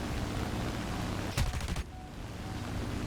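A burst of aircraft gunfire in War Thunder, a rapid rattling volley lasting about half a second over a steady roar of engine and wind, loud and close.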